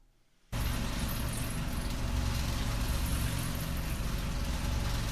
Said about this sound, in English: It's just a commercial refrigerator noise.